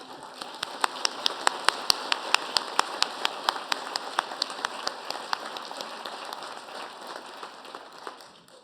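Sparse applause from an audience at a university convocation, a thin run of distinct, evenly spaced claps that gradually thins out, with no talking over it.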